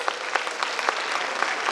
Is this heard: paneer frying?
no